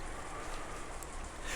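Steady wind and rain from the Umineko visual novel, a dense, even hiss of rainfall throughout with no distinct drops standing out and no talk over it.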